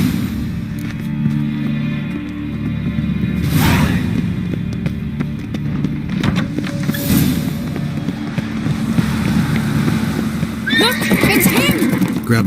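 Horse neighing and hooves in The Witcher 3 game world, a whinny standing out over a steady low rumble, with clip-clopping and a few whooshes, and voices talking now and then.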